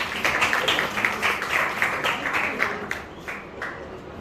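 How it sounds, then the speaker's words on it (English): A small crowd claps steadily for a few seconds, the applause fading toward the end. "Round of applause, please."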